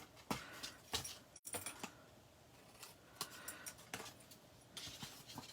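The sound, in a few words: scissors cutting paper at score line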